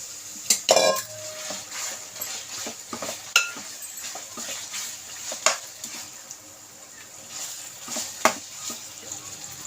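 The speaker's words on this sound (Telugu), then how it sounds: "ఇలా వేగిన దాంట్లో ఈ చికెన్ వేసేసుకుందాం" Marinated chicken going into a hot frying pan for a Sunday chicken curry, with faint sizzling under clattering spoon-on-pan stirring and scraping, plus soft background sounds.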